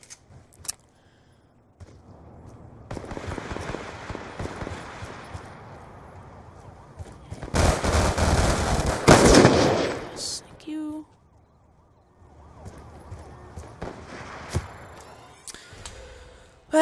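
Gunfire in the shooter game Black Ops 2 comes as scattered bursts and a loud, dense stretch of shots and effects midway, with quieter sporadic fire around it.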